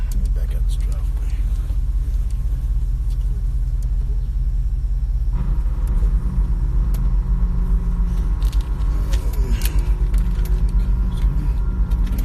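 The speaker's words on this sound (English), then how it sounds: "let me back out this driveway" A car engine rumbles steadily at close range while reversing out of a driveway, with a low constant drone and a slight shift in tone partway through.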